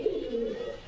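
A single pigeon gives a steady, close cooing call that holds for under a second, clear and alone with no talk over it.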